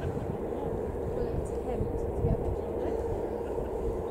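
A USAF Boeing C-32 jet lands at London Stansted, its engines producing a steady, broad roar that holds at an even level throughout without a break.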